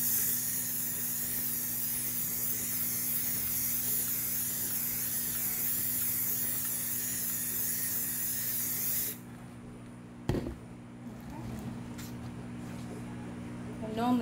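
A glitter spray paint can hisses steadily onto a rolling tray for about nine seconds, loud and close, then stops, leaving faint handling noises and a brief knock.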